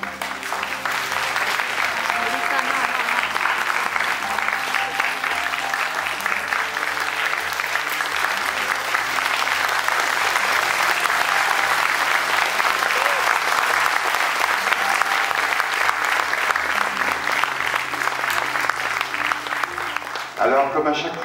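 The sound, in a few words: audience applause at a bubble show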